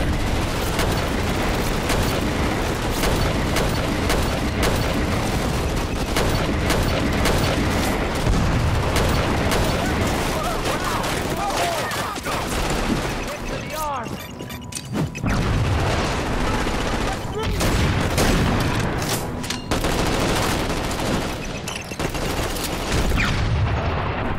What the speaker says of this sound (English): Shoot an enemy's arm to stop them from returning fire.